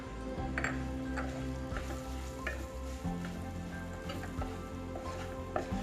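Carrot pieces fry in a pan with spice powders for carrot mezhukkupuratti, a steady close sizzle with stirring scrapes and small clinks running throughout.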